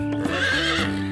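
A horse gives a short, bright whinny over steady backing music, the call rising and wavering briefly before fading.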